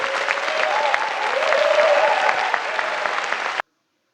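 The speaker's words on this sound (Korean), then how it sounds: "이 타임은 우리 자신과 옆에 있는 그런 사람들 위해서 박수 한번 하고 마치겠습니다." A lecture audience claps together in a dense, sustained round of applause, close and lively, that holds steady for a few seconds and then cuts off abruptly.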